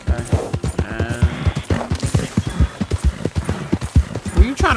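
Horse hooves clip-clop at a steady galloping rhythm in a video game, loud and close throughout, with a brief whinny and game sounds layered over the hoofbeats.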